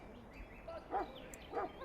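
A Mabari war hound in a video game gives two short woofing barks about half a second apart, moderately close over a low ambient game background.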